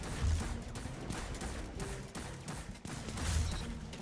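Golden Gun super firing in the video game Destiny 2, heavy booming shots at the start and near the end over a constant rumble of battle, fairly quiet overall with no talking.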